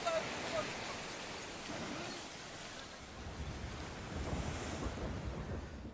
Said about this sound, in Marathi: तलावातलं पाणी वाहत आहे